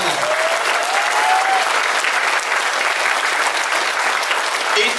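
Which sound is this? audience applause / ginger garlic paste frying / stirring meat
audience applause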